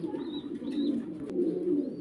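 Pigeons coo steadily in soft, overlapping low murmurs, close by and continuous, with a few faint higher chirps mixed in; these are black exhibition pigeons kept with eggs and chicks.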